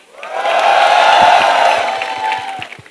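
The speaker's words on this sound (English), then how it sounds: "can we please hear one round of applause for IIT Delhi?" A packed audience at an IIT Delhi campus event roars with cheers, whoops and clapping, a loud, sustained crowd swell that builds quickly and holds for nearly three seconds before tapering slightly.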